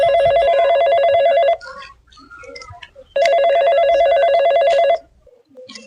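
A telephone rings loudly and close by in two long electronic trilling bursts separated by a short gap with faint background noise.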